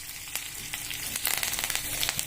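Tempering of mustard seeds, urad dal, onion and curry leaves in hot oil, crackling with a dense hiss and quick scattered pops that grow busier toward the end.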